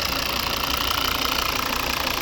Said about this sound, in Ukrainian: Ось п'ятициліндровий знаменитий вольвовський двигун, 1, 2, 3, 4, 5 циліндрів, 120 кВт, 163 кінських сили.